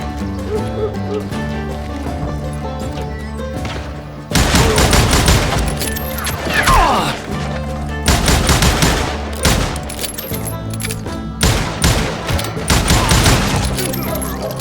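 Gunfire from the Western shooter game Call of Juarez: Gunslinger, with dense bursts of shots crackling in rapid volleys after a quieter musical opening, loud and repeated across the scene amid game sound effects and possible hoofbeats.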